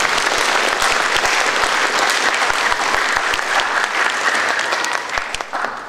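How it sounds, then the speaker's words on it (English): Audience at an honor society induction ceremony applauding the students, a dense, loud, steady wash of many hands clapping together that tapers slightly at the end. "I think that we need to give them a round of applause to start with and honor them for their accomplishments."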